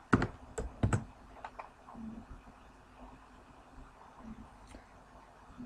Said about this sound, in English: So let's type in Minecraft background.